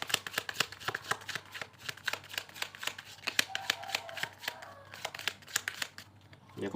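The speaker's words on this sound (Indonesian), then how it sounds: "tak shuffle-shufflein dulu ya" A deck of playing cards being shuffled at close range, with a fast run of crisp riffling snaps and card slaps repeating steadily throughout.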